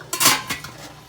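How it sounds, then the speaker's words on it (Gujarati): A metal lid set down over a pot of steaming idada batter makes a short, close metallic clatter and a second lighter clink, with no voices. "હવે આપણે ઢાંકી દઈશું એને"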